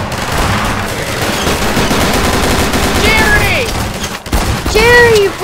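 Gunfire from a weapon in Garry's Mod, a dense burst of rapid game shots under a shouted voice, with a pause before more shooting near the end.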